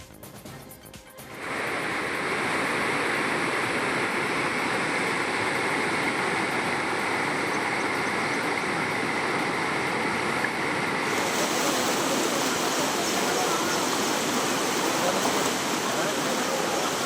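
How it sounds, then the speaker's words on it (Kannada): Heavy, unrelenting rain and rushing water in Kalaburagi make a loud, continuous roar that starts abruptly after a brief quieter moment and holds steady, close and broadband, with no voices. "ಬಿಟ್ಟು ಬಿಡದೆ ಸುರಿತಾ ಇರುವ ಮಳೆಗೆ ವಾಹನ ಸವಾರರು ಹೈರಾಣಾಗಿ ಹೋಗಿದ್ದಾರೆ."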